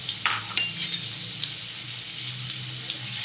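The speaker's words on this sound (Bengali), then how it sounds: "এই কড়াইয়ের মধ্যে আমি এই ঘি আর মাখনটা দিলাম, আর এর মধ্যে ডিমটাকে একটুখানি ভেজে নেব সামান্য" Egg frying in ghee and butter in a wok, a steady crackling sizzle with a few sharper spits and pops near the start, close and continuous with no one talking.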